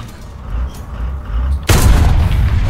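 A tank main gun in War Thunder, a Boxer MGS, fires at an enemy's track, giving one sudden loud boom with a crackling tail over a low rumbling engine background.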